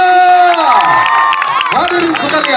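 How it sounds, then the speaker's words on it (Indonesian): A loud crowd at a Ramadan pre-dawn sahur patrol performance cheers, whoops and shouts, with children's voices and some clapping mixed into a dense, continuous roar. "Komplek mana tepuk tangannya?"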